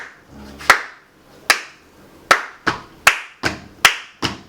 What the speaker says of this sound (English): But now, imagine most of us just in sync,